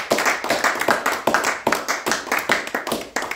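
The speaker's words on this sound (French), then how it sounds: "Acclamons la parole de Dieu." A church congregation claps in a steady rhythmic beat, loud and close, sharp hand claps repeating roughly every quarter second, with no talking over it.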